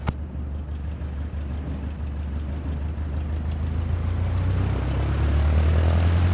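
A propeller aircraft engine in a flight simulator game drones steadily and swells louder as it revs up for a solo flight takeoff, with a deep low hum and no speech over it.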